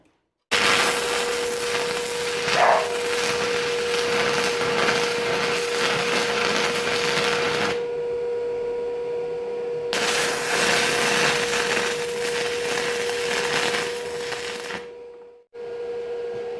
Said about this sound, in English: I can weld a handle on